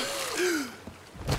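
A Sea of Thieves character gasps sharply for air after surfacing underwater at a shipwreck, one drawn-out rising-and-falling breath followed by a shorter exhale, close and alone.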